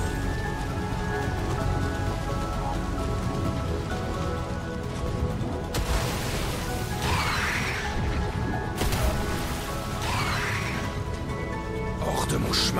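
Steady rain falls in Final Fantasy XVI, The Rising Tide. It makes a constant dense hiss throughout, broken by a couple of whooshing swishes, and voices likely talk over it.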